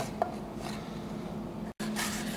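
A knife slicing a carrot into even strips on a cutting board in a kitchen prep setting: a few soft scraping and tapping cuts, close and quiet, with a short silent gap near the end.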